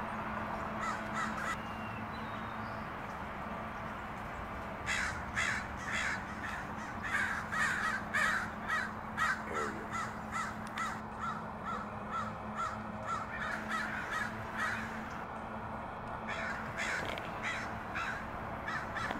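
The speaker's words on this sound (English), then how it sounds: "so these crows are just touching down, grabbing a peanut, and not even really landing." Crows caw over and over in rapid, overlapping calls, fairly close, swooping down to grab peanuts without fully landing, against a steady background hum for the whole stretch.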